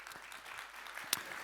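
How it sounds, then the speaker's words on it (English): An audience at a deep tech conference stage session applauds a panelist, a steady clatter of clapping from the crowd with one sharp loud clap near the end. "Round of applause for Gins."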